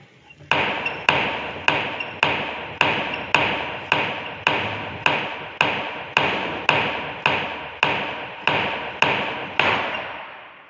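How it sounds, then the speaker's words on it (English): Casagrande liquid limit cup repeatedly lifted and dropped onto its base during a soil test, giving a steady series of sharp, close metallic-wooden taps at about two blows per second, with no talk. "the blows so that this cup goes up and down"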